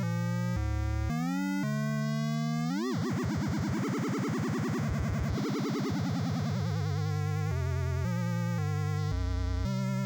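A synthesizer in Synth VR plays an organ-like tone with a slight wavering. It moves from steady held notes through a dense, buzzy passage and then into stepped melodic notes, loud and continuous with no voices.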